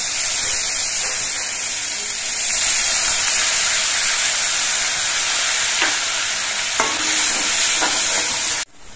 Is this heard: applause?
no